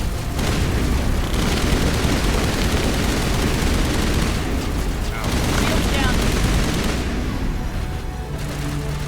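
Sustained gunfire and booming blasts in the Mass Effect 1 video game finale, a dense, loud, continuous barrage with brief lulls, voices faintly under the din.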